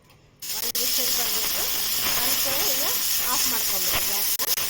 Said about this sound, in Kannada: ಕುಕ್ಕರ್ ಮುಚ್ಚಳ ಮುಚ್ಚಿ ಒಂದು ವಿಜಲ್ ಬರೋ ತನಕ ಕೂಗಿಸ್ಕೋಬೇಕು